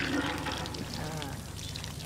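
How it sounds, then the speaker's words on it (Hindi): Water gushes steadily from a village hand pump in a rural setting, a continuous splashing pour heard close up. Faint voices murmur underneath. "अच्छा पानी आ रहा है।"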